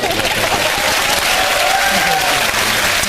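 Steady studio audience clapping during a comedy sports panel show, a thick continuous patter of many hands, fairly loud and unbroken from start to finish.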